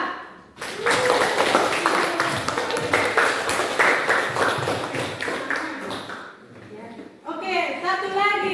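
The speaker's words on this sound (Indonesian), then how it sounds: "tepuk tangan dulu buat kelompok" A classroom of children claps for an active group of classmates in a lesson, with a burst of bright, fast hand claps under a teacher's speaking voice that stops and gives way to talk near the end.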